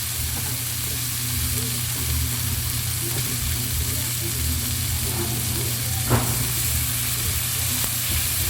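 Onion fries in a pan for a sauce, giving a steady, loud sizzle and hiss as it is stirred, with occasional scrapes and a sharp clink near the end.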